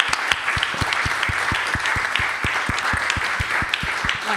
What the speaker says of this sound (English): Can we please all applaud Carissa for being a strong voice for the consumers?